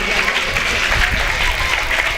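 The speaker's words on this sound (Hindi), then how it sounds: "वह जोरदार तालियां बजाएंगे भैया के" Audience applause at a Hindi religious discourse honouring people carrying kalash pots, a dense steady wash of many hands clapping throughout, fairly loud with faint crowd murmur beneath.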